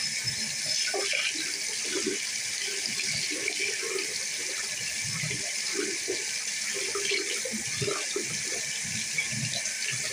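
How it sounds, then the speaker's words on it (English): Tap water runs steadily into a sink during face washing, a constant close hiss with soft splashes and small handling sounds beneath. "First, I'm going to wash my face."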